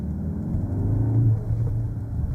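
A Cupra Formentor VZ hums along on the road, a steady low engine drone and road rumble from inside the cabin that swells slightly mid-way, continuous and fairly loud, with no talking.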